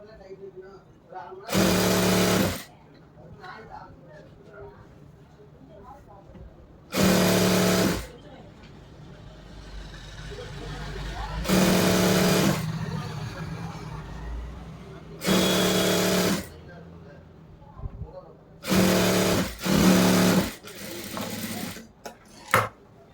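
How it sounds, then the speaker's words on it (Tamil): A sewing machine stitches the lining of a churidar top in five loud, steady runs of about a second each, with a person talking between the bursts. "அதே போல் ஸ்ட்ரெயிட்டாக நம்ம லைனிங் இருக்குது அந்த அளவுக்கு நம்ம ஸ்டிச் பண்ணிடலாம்"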